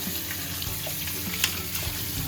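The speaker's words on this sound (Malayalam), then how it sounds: "നമുക്കിതൊന്ന് വെള്ളം ഒഴിച്ച് കഴുകിയെടുക്കാം." Water runs and splashes steadily at close range over a mud crab being washed, a continuous rushing wash with no voices.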